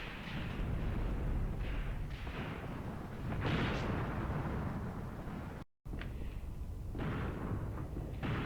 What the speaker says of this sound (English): Our anti-tank gun is giving some support here.